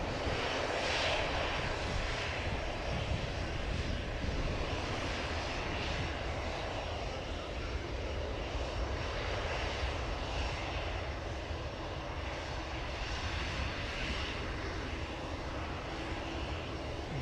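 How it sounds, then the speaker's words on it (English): Etihad Boeing 787-9 Dreamliner arriving from Abu Dhabi, a steady loud jet roar filling the whole stretch with slight swells, heard alone without speech. "Flight 75 coming in from Abu Dhabi A6BLN. 787-9 Dreamliner."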